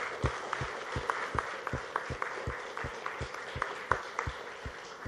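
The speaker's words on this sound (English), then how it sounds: "can I have a big applause for all of them?" Audience applause at the Discovery Channel launch event for the show HRX Heroes. Crisp claps fall in a fairly regular rhythm with soft low thumps, moderately loud and steady, with no talking.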